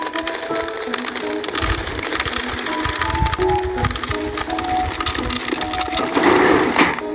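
Maize seed rattling and crunching as it pours into the hopper of a hand push planter on a farm, a dense, continuous, close-up gritty clatter that stays steady and swells slightly near the end.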